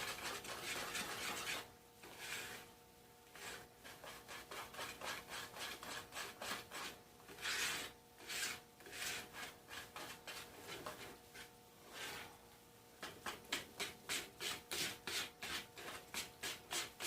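A big, sturdy whisk scrapes rhythmically through thick pumpkin spice cake batter in a bowl, a steady series of close, rasping strokes with a short pause partway through and faster strokes toward the end.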